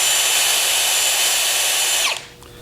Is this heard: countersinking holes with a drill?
yes